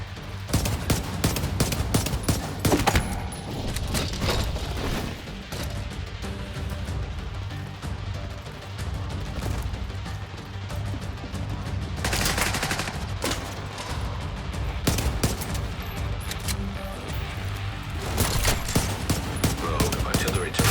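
Rogue artillery turret gunfire in a video game: dense, continuous rapid shots with periodic heavier bursts, loud and sustained throughout with no talk.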